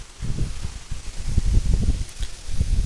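Gusty wind buffets and roars close by in uneven bursts across farm fields, with rustling mixed into the blustery rumble.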